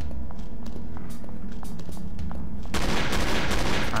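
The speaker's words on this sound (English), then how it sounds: "this is a garbage shotgun" A shotgun fires in Possest, a Doom 2 wad, as a loud, dense burst of blasts that erupts partway through and keeps going over a busy low game rumble with scattered clicks.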